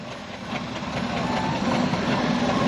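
A steam traction engine pulls hard at a steam fair, a steady close rumbling chug with faint rhythmic beats over broad mechanical noise, growing slightly louder.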